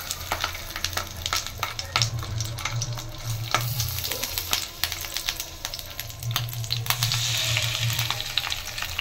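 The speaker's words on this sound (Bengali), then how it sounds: "কলা পাতায় বেটে নিয়েছি সুতো দিয়ে, এবার একটু অল্প তেল দিয়ে দিয়েছি কড়া।" A banana-leaf parcel of ground mustard paste and green chillies, tied with thread, fries in a little oil in a kadai over a low flame, giving a steady close sizzle with light crackling and occasional stirring scrapes.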